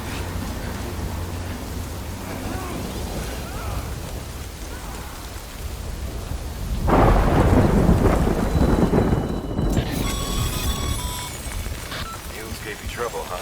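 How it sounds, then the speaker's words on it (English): Heavy rain and a thunderstorm in the video game Death Stranding, a steady downpour with a loud thunder rumble swelling midway, then easing back to rain. "Good thing it was raining."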